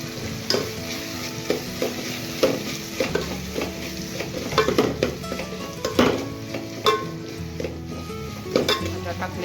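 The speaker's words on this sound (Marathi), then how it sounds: "चांगलं स्मॅश करून घ्यायचं आहे त्या भाज्या" Vegetables for pav bhaji, including softened tomato, green peas and chopped capsicum, are mashed and stirred in a sizzling pan, with repeated rhythmic thumps and scrapes of the masher over a loud, steady frying sizzle.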